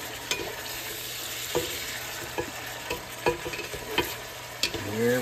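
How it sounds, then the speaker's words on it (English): Bacon sizzles steadily in a pot while a spatula scrapes and turns it, with sharp intermittent scraping clicks over a constant close frying hiss. "you just want to take your spatula and just turn it just a little bit"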